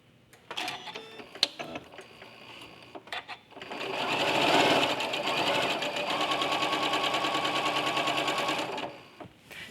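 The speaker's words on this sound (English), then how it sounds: "sew them together like I would if I was chain piecing two pieces together normally" A sewing machine runs steadily while chain piecing quilt pieces, starting with a few short bursts and clicks before settling into a sustained, even whir for several seconds, then stopping abruptly.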